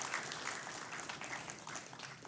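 Audience applause for the engineers at a live tech conference, a steady, dense wash of clapping from a crowd that holds evenly for a couple of seconds without voices.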